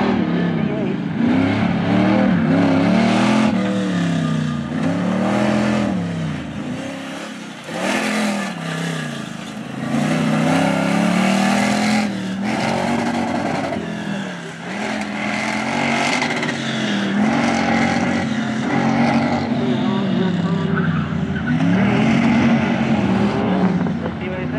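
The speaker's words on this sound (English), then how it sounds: "And here comes a CB car doing CB noises." A CB-class autocross race car at an SCCA event in New York revs its engine in loud rising and falling sweeps, repeated several times with brief dips between, as a voice speaks at points over the engine.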